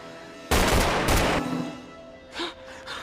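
Gunfire erupts in a film scene as a loud burst of rapid shots, then cuts off, followed by fainter rustling and a short breathy sound.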